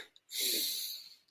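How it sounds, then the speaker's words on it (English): A single close, airy inhale through the nose during a guided meditation exercise, lasting about a second, breathy and alone. "breathing in."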